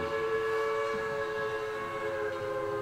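A morning train arriving at Missolonghi station, a steady sustained rumble with drawn-out whistle-like tones held throughout, moderately distant with no voices.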